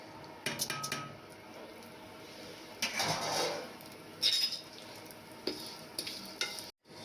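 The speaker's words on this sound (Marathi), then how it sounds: "आता आपण याला रोस्ट करून घेऊया." Dry vermicelli roasts in a pan for upma, heard as a faint sizzle with scattered stirring scrapes and light clinks of a spoon against the pan.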